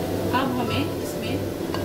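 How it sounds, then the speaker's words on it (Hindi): Chopped onions and vegetables being stirred in hot oil in a kadai for vegetable dum biryani, a steady sizzle with soft scraping strokes and occasional light clinks of the spoon against the pan. "सारी सब्जियों को मिला देना है।"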